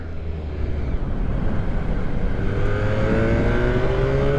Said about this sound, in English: A very special ride on a very special bike. A Honda NR750.